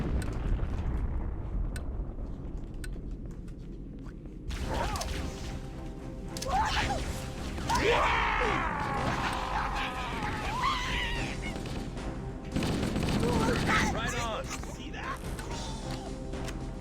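In Halo: Combat Evolved, a grenade goes off and gunfire follows as loud crashing blasts and rattling game effects, with someone talking over parts of the action.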